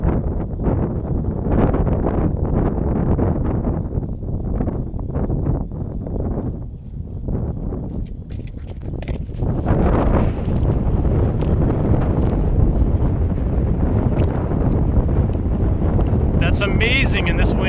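Strong wind batters the microphone outdoors during a high-wind drone flight test, a loud, continuous low roar with gusty swells that never lets up.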